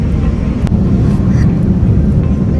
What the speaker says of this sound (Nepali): यो प्लेन त उड्दो रहेछ है उड्दो रहेछ